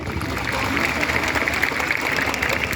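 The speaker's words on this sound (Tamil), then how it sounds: "என்னை போல ஒரு கலைஞனுக்கு இந்த கைத்தட்டு தான் கோடான கோடி ரூபாய்." Audience applause fills a school annual day celebration at Everwin Vidhyashram in 2024: dense, steady clapping from a large crowd, sustained and even throughout, with crowd murmur mixed in.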